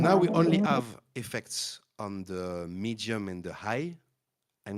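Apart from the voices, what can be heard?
No everyday noise stands out behind the speech.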